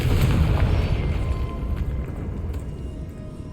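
A Confringo fire spell explodes in Hogwarts Legacy, a loud booming blast with a heavy low rumble that slowly fades over a few seconds, with no talking over it.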